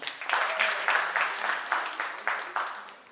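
Scattered applause from a small audience at a Udichi school event in New York, greeting keyboard and tabla musicians, heard as a series of rhythmic bursts of clapping that pulse and fade over a few seconds.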